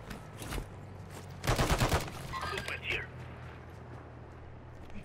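Gunfire in Call of Duty Warzone, a short burst of rapid automatic shots after a single earlier shot, set over low game ambience with a voice talking.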